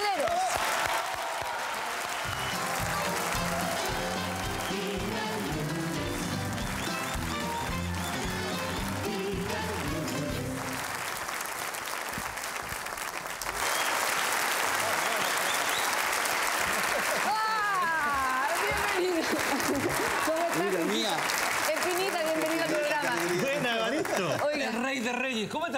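Studio audience applause welcoming Jorge Espinita Pedreros onto the Chilean variety show Viva el Lunes, a sustained wash of clapping running the whole length, with music and a host's voice mixed in over it.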